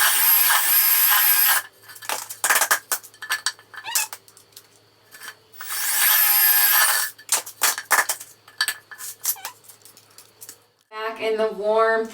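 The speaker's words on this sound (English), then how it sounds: "we're done drilling" A power drill whirs loudly in two long bursts through wood boards for floating shelves, with clattering, knocking and handling noises in between and a brief voice near the end.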